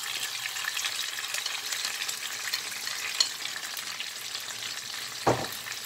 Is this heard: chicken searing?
yes